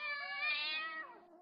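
A single cat meows in an animated Family Guy scene, one clear, close, drawn-out meow that rises and then falls away at the end, heard alone.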